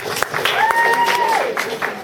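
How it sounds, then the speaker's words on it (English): Applause from the audience at an entrepreneurship boot camp session, steady clapping over about two seconds with a voice tone running through the middle. "Thank you, round of applause."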